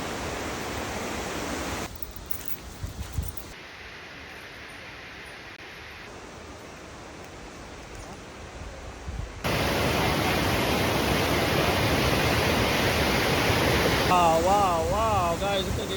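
Rushing water at Owia Waterfalls in St. Vincent and the Grenadines makes a loud, steady roar, with voices faintly present in parts.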